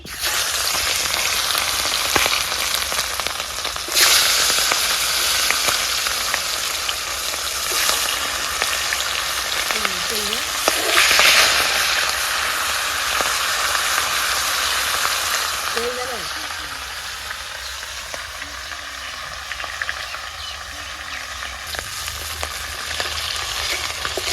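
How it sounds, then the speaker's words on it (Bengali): A fish head fries in oil in a kadai, giving a steady, fairly loud broadband sizzle that runs throughout with occasional stirring and short bursts of louder crackle. "এবার এই মাছের মাথাটা ভালো করে ভেজে নেবো"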